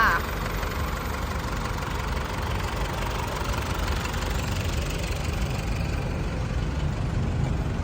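A 2012 Isuzu D-Max 2.5 diesel engine runs at idle, a steady close rumbling drone with a constant low knock, and a voice speaks faintly over it.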